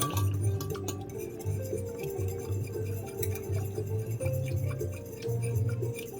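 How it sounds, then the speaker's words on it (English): A spoon stirs tomato tonkotsu instant ramen broth in a bowl, giving steady light clinks and scrapes of metal against the bowl in a continuous rhythm, with a low hum underneath. "I'm stirring it. Look at me go. I'm stirring this stuff."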